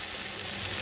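Chopped tomatoes sautéing in a pan for tomato chutney give off a steady, bright sizzle with no pauses, close and alone.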